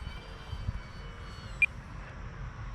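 A small radio-controlled Corsair model airplane flies at a distance, its engine a steady faint hum held through the whole stretch, with one brief high beep partway through.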